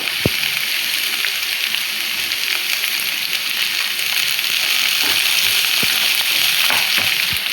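Chopped vegetables fry in a pan with a loud, steady, close sizzle, broken now and then by sharp clicks of stirring.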